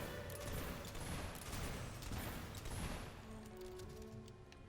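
Rapid volley of shots from the Dragon Stomper 48 gun in the video game Fable 3, dense and loud, with bursts of gunfire running continuously throughout.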